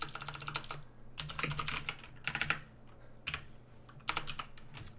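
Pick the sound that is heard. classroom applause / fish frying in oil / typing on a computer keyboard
typing on a computer keyboard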